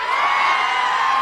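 A crowd at a political public meeting in Adilabad, Telangana shouts and clamors in a steady, loud, dense wash of many voices with no break.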